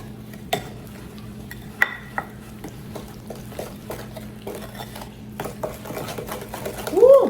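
Sugar and vanilla extract are stirred together in a bowl for banana almond muffin batter, giving scattered scraping taps and a few sharper clinks over a low steady hum.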